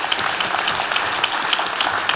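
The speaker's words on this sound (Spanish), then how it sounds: "Muchas gracias, Cecilia. Un aplauso." Audience clapping for a panelist at a science panel on population ageing, a dense steady patter of many hands at moderate level with no voices on top.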